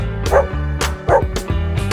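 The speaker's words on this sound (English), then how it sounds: "It's a dog." A dog barks in a series of four sharp, loud bow-wow yips at an even rhythm, close up, with a faint whimpering quality between barks and no talking.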